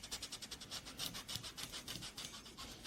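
A microfiber applicator rubs Dr. Wack Intensive Cleaner over car paint with light pressure, giving a steady, close, soft rhythmic swishing in quick back-and-forth strokes.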